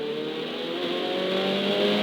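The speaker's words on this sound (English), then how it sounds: "Now straighten the wheel as you accelerate, and full power." A Ferrari 488 Challenge Evo revs hard and climbs steadily in pitch, a loud continuous roar of full-throttle acceleration heard up close.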